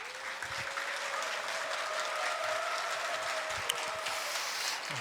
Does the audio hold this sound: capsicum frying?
no